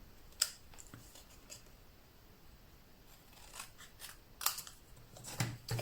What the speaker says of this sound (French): Mais là, on y va avec les ciseaux.